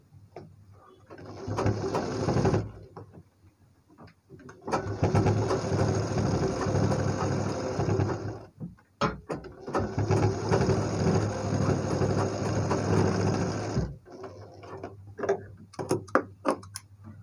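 A sewing machine stitches the piping of a designer blouse in two long, steady runs, each lasting several seconds with a short pause between, followed by a few brief clatters. The sound is loud and close, with no talking.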